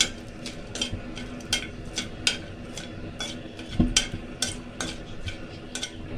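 Whole spices such as cardamom and cloves stirred in hot oil for a mutton stew, a utensil tapping and scraping the pan in a fairly regular rhythm over a faint sizzle.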